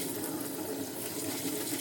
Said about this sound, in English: Then run it under cold water and give it a good rinse.